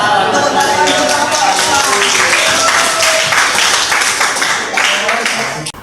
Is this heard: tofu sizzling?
no